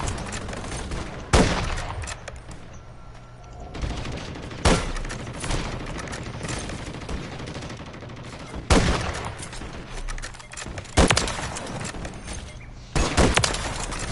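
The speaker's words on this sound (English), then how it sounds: "that guy is shooting at me" Gunshots in a Call of Duty Warzone match: several sharp, loud cracks and short bursts come at irregular intervals, some close and some farther off, over a quieter background.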